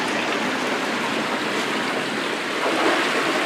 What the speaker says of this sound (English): See that rush of water?